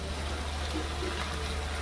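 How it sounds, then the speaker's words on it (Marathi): Tamarind water pours into okra cooking in a pan, giving a steady, continuous trickling splash that runs unbroken from start to finish, with no talking. "चिंचचं पाणी टाकायचं आहे आपल्याला"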